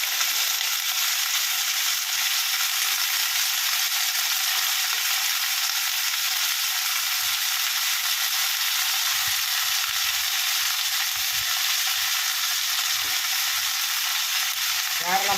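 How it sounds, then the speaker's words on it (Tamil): Radish and okra sautéing in a pan give a steady, dense sizzling hiss that runs unbroken and close throughout, with a few faint scrapes underneath. "வெண்டைக்காய் மட்டும் இது முள்ளங்கி மட்டும் போட்டு வதக்கணும்"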